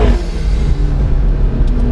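A McLaren 650S supercar accelerating hard out of a corner, with a loud, steady engine roar and road rumble heard from inside the cabin, sustained throughout with no speech.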